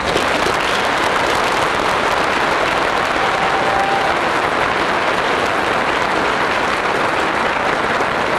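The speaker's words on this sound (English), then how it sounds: "We have a round of applause for that." An audience at a high school honor awards assembly gives a loud, sustained round of applause, dense clapping from a large crowd that holds steady for several seconds with no speech.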